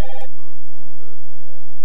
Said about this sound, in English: I think it's the first call on the Polkaroo-a-phone.